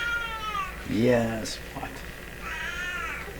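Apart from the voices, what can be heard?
cats meowing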